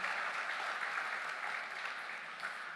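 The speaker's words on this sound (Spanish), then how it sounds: "Denle un fuerte aplauso." Congregation applauding in a church service, a steady even wash of clapping from many hands at moderate level throughout.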